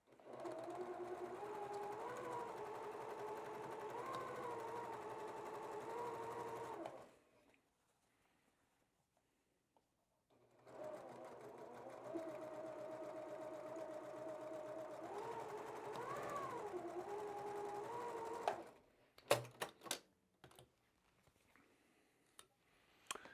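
A sewing machine stitches quilt block seams in two steady runs of several seconds each, separated by a quiet pause, with a few sharp clicks and taps of handling at the end.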